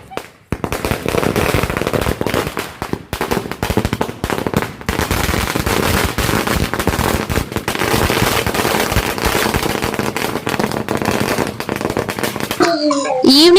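A 1000-wala string of firecrackers set off for Diwali pops in a loud, dense, nonstop crackle for about twelve seconds, then cuts off abruptly.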